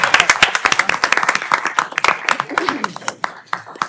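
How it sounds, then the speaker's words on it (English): A room at a state school-board meeting gives a round of applause, with brisk scattered clapping from a modest group. Voices chatter underneath, and the clapping thins out toward the end. "Let's give them one more round of applause."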